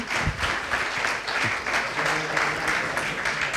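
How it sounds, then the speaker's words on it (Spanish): An audience at a cycling memorial presentation applauds in a dense, continuous wash of clapping that stays evenly loud throughout, with a few voices faintly mixed in. "Darles un aplauso."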